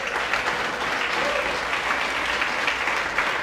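Audience applause for Louisiana Startup Prize 2014 finalists, a steady dense wash of many hands clapping that holds for the whole stretch with no pause.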